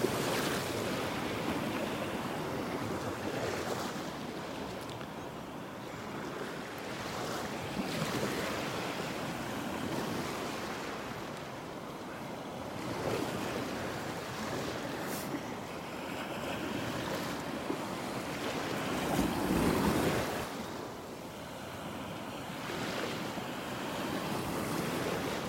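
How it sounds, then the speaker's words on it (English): Ocean surf breaking at an angle on a beach in North Naples, Florida, a steady wash of crashing waves with wind noise on the microphone, continuous and fairly close with no talking. "Watch these waves breaking. They're breaking on an angle here."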